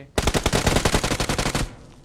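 Rapid automatic gunfire in the mobile game PUBG Mobile, a loud close burst of about a dozen sharp shots in quick rhythm, then cutting off abruptly.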